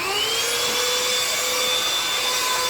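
A blower runs inside a house to clear dust, a loud, steady motor whine with a high tonal pitch that drifts slightly, roaring continuously from start to finish.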